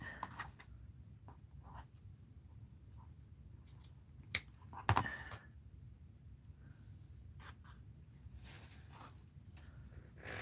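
Scissors snip through mixed-media art journal material, a handful of faint, quick cuts over a quiet background, with one sharper snip near the middle.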